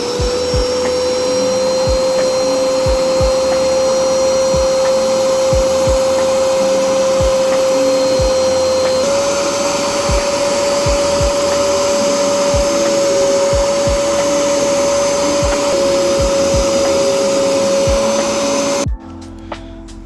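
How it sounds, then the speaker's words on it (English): A small carpet extractor runs steadily inside an R34 Skyline, a loud continuous whine with a hiss of suction and a brief pitch step midway, as the machine sucks liquid out of the interior before cutting off at the end. "next we run this little extractor and suck all the juice up"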